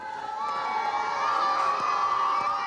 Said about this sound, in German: die Komparsen sollen in dieser Szene jubeln